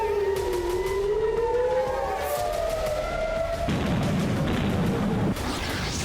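Air raid sirens wail over Israeli cities under Hezbollah rocket attack, several rising and falling tones overlapping loudly, then cut to a rough, noisy rumble of blasts and chaotic background.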